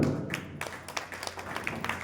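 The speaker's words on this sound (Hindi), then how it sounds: "तालियों की गड़गड़ाहट" Scattered clapping from an audience at a Hindi poetry recital, faint and thin, with a few irregular claps rather than a full ovation.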